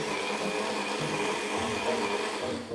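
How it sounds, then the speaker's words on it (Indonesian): A blender grinds spice paste for sate Padang sauce, a steady, loud whirring drone running continuously throughout without pause. "Kita blend sampai benar-benar halus."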